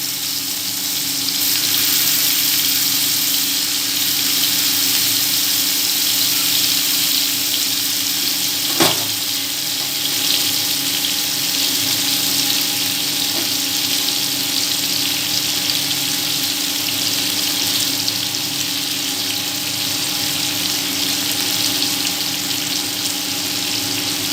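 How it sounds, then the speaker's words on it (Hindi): Beef reshmi kababs frying in hot oil over a low flame give off a steady, even sizzle that holds for the whole stretch, with one brief sharp clink partway through and no talking. "हल्की फ्राई करते रहेंगे।"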